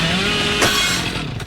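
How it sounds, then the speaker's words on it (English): A revving chainsaw in the mobile video game Dead by Daylight Mobile drones loud and steady at close range, with a short sharp impact burst partway through and another near the end. "The chainsaw is just so freaking bad"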